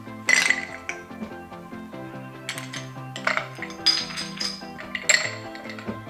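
Ice cubes clink and rattle against a cocktail mixing glass in a run of bright, close knocks, being added for a pumpkin beer cocktail with lime.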